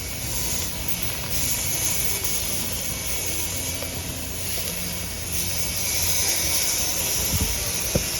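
Flat iron steaks sizzling on a grill, a steady broad hiss that holds evenly throughout with faint pops and crackles, close and alone.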